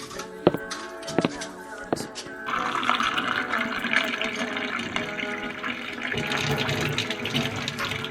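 Water is poured from a jug or tap into a glass for an elderly grandfather in a home stage drama, a steady splashing fill lasting several seconds after a few sharp knocks, with voices faintly underneath.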